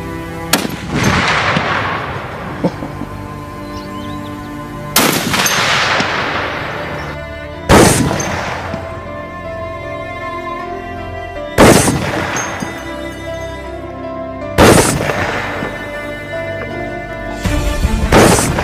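Real firearms fire loud, sharp single gunshots outdoors, about five blasts spaced a few seconds apart, each with a long booming echo that trails away.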